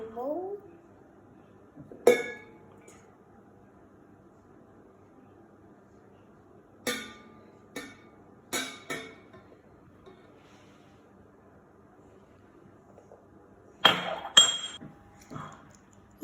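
Dishes and pans clink sharply in a home kitchen while choc chip cookies are made, a few scattered knocks and clatters with long quiet gaps between them, and a voice talking early on.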